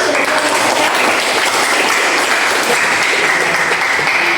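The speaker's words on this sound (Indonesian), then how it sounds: "Betul sekali, tepuk tangan untuk Alfi." Students in a classroom clap loudly and continuously for a classmate after a correct answer in a math lesson, a close, dense burst of applause.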